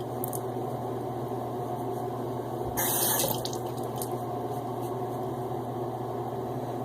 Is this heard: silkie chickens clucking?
no